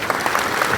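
Crowd at a yarn distribution program in Amarpur clapping, a brief dense patter of steady applause heard alone.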